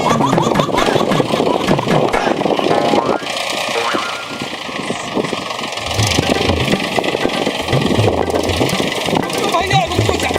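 A tractor engine runs steadily at close range, a mid-pitched mechanical drone with a brief dip in the middle, while voices talk over it throughout.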